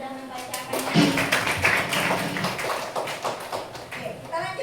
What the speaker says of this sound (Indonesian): kita tepuk tangan buat Kirgi karena sudah membacakannya